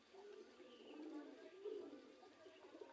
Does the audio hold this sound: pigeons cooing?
yes